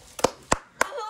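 Three sharp hand claps, close and distinct, spaced roughly evenly within a second.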